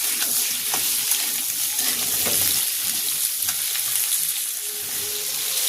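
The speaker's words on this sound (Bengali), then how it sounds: "আলুটা একটু নাড়াচাড়া করে ভেজে নেব" Potatoes frying in oil in a pan give a loud, continuous hiss, with soft scraping as they are stirred.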